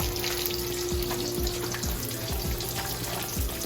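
Vegetables frying in a pan give a steady, close, dense sizzle with a faint hum underneath and a few soft periodic knocks, with no voices.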